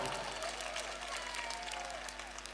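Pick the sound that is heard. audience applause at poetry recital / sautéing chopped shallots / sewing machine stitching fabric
audience applause at poetry recital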